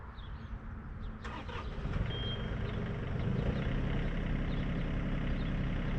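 A performance-modified RC jet comes in to land at zero throttle. Its engine gives a steady, fairly loud rushing roar that swells slightly as the jet nears, and a brief high whine passes over it.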